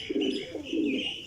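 A Teddy pigeon coos up close, two soft, throaty rolling phrases back to back in a brief, clear burst.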